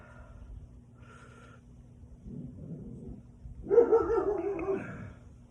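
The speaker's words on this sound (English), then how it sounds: "Sorry about the dog." A dog indoors gives a few low woofs and grumbling, whimpering barks, building to a louder burst near the end, close and moderately quiet, with no one talking over it.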